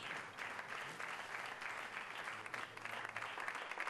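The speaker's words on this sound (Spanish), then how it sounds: "Entre aplausos, ha sido despedido por sus compañeros" Colleagues applaud at a farewell board meeting for a long-serving president, a steady, fairly faint burst of many hands clapping throughout with no voices over it.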